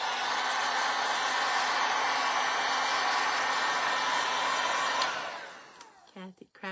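A hair dryer blows to dry paint on a craft project, giving a loud, steady whooshing roar that cuts off after about five seconds, followed by a few quiet sounds.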